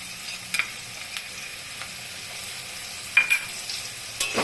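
Spices and potatoes fry in hot oil in a pan for a raw banana kofta curry, a faint, steady sizzle broken by a few soft clinks and scrapes of stirring.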